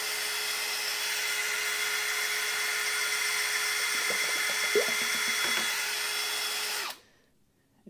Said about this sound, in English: usually what I do is I got this drill here with this drill motor.